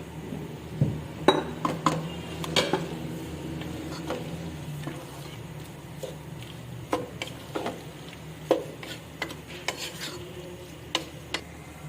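Onions go into melted ghee in a pan for chicken korma. Irregular clinks and scraping stirs ring out over a soft, steady sizzle, close by, with no talking.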